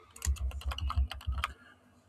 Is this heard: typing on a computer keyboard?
yes